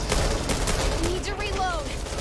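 Rapid gunfire crackles in Back 4 Blood, a dense burst of repeated shots close by, with voices talking over it.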